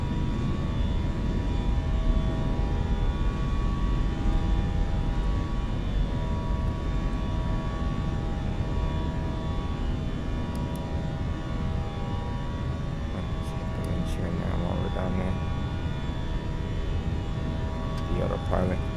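A JetBlue airliner climbs out after takeoff from Fort Lauderdale while its landing gear retracts, heard from inside as a loud, steady engine roar with whining tones and faint clunks, with people talking under it.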